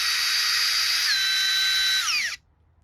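A screw gun whines steadily at close range, its pitch dipping as it loads up while driving a screw into wood, then cutting off abruptly into near silence.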